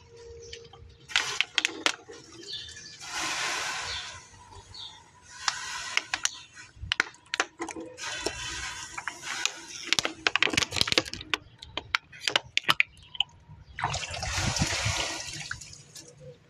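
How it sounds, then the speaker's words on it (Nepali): Water is poured over a hot car engine to cool it, in several separate splashing gushes with sharp crackles and clicks between them, fairly close and with no talk. "थोरै इन्जिनमा पनि पानी हालिदिउँ भनेर कि।"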